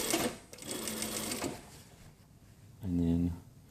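A sewing machine runs a short burst while sewing the back seam of a jacket, a brief close buzzing run near the end, preceded by a person talking.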